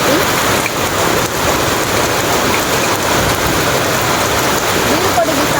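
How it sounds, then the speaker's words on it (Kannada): Heavy rain pours down steadily in Bangalore, a dense, continuous hiss and patter on surfaces, loud and close throughout with no break. "ಮಳೆ ಗಾಯ್ಸ್, ಮಳೆ"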